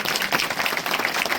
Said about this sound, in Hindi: ये हम लोग जोरदार तालियों से स्वागत करेंगे